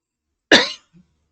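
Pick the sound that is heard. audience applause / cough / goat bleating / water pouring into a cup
cough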